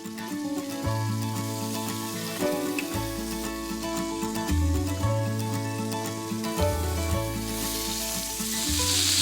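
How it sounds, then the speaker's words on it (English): Beef seared in a hot pan gives a steady, continuous sizzle that runs the whole time, sitting under a stepped musical backing. "It's essential you take the time to seal the meat first. There it is, sizzling."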